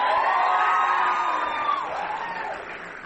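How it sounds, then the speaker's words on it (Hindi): An audience of college students cheers and whoops for their faculty in a loud, sustained burst of crowd noise that fades slightly toward the end. "एक बार फैकल्टीज के लिए तालियां हो जाए।"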